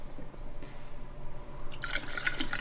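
Water is poured into a hookah, starting with faint drips and then a bright splashing fill that swells near the end, close and steady.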